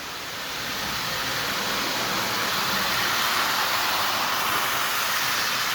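A prewar Lionel 259E tinplate toy steam locomotive with tender and freight cars runs along its track, a steady whirring rush that swells slightly and holds, with no talk.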